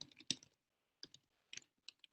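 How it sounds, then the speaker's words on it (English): Keys clack on a computer keyboard in short irregular bursts and single taps, close and fairly quiet, with pauses between them. "Can you see what I'm typing?"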